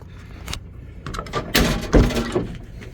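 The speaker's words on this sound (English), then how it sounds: "So this will be the first time I'm trying to open the door." A 1992 Jeep YJ door with a freshly repaired latch is opened, giving a few close mechanical clunks and clicks with a louder pop near the middle, heard alone without talk.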